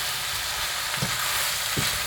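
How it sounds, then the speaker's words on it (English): Mushrooms sizzling loudly in a hot curry pan over high gas for a bhuna, a continuous dense frying hiss with two soft scraping thuds from stirring. "so we can add the mushrooms into this now. And just give it a stir."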